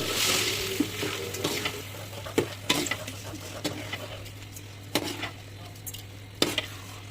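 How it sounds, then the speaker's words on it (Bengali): Onions frying in a pan, a steady sizzle under occasional sharp clinks and scrapes of a spoon, close and moderate in level, with a low steady hum underneath and no speech. "সেটার জন্য পেঁয়াজ ভেজে নিচ্ছে।"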